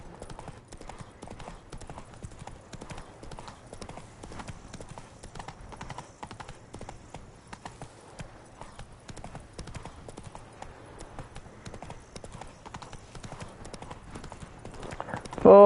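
A horse gallops in the video game Witcher 3: Wild Hunt, a steady, fast clip-clop of hooves running continuously at moderate volume, ending with a sudden louder burst.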